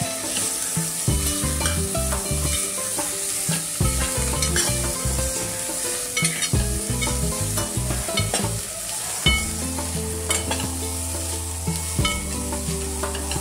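Spices sizzle and crackle steadily in hot oil as a tempering for a mixed vegetable dish, with occasional stirring clinks and background music playing throughout.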